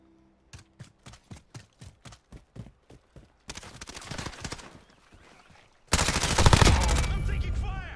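Gunfire from the video game Modern Warfare starts as a rhythmic string of single sharp shots. It then gives way to denser automatic bursts, and a loud close barrage closes it out.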